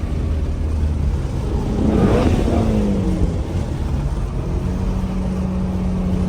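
A Ford Mustang GT350 V8 blips its revs on a downshift, a brief rising and falling roar heard from inside the moving car over a steady road rumble.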